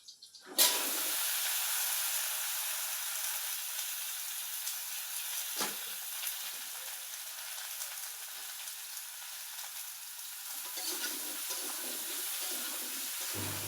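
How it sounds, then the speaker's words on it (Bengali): A loud sizzle bursts out as vegetables hit hot oil in a pan, then settles into steady, continuous frying that crackles on for many seconds. "আমি এখন সবজি রান্না করছি"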